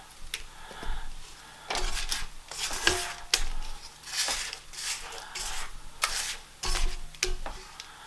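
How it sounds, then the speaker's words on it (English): A spatula scrapes down a mixing bowl of kugelhopf batter, giving short scraping strokes in irregular bursts with small knocks between them, close and moderately quiet. "I'm going to just scrape everything down."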